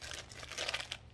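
A plastic poly bag pulled from the bottom of a shipping box crinkles softly for about a second, faint and close, with no voices.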